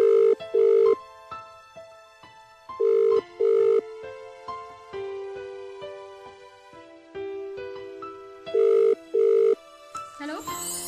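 A telephone rings in bursts of paired electronic tones, repeating several times with gaps of quieter melodic tones between, clear and close, as a caller tries again and again in an Assamese short film.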